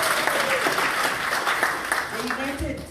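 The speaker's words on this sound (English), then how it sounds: "You deserve a big round of applause" At a Swazi political front's launch event in Nelspruit, an audience breaks into sustained applause for the women, with voices and cheers mixed into the clapping before it fades slightly near the end.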